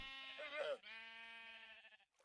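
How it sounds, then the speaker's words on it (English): A black sheep in Minecraft lets out a single drawn-out wavering bleat, clear and close, with no talking over it. "And I can just put a new black sheep in, right?"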